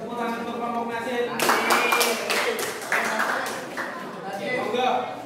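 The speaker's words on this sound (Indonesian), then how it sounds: "tepuk tangan untuk kelompok Nasir" Brief clapping from participants at a group discussion session, starting loosely then coming in short scattered bursts, heard beneath and between a person speaking over it.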